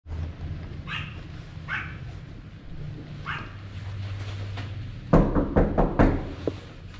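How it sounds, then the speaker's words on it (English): A dog barks inside a house during volunteer work in wartime Ukraine, several muffled, spaced barks heard through walls, followed by a burst of louder knocks and rustling nearby. "We do hear that there's a dog in there"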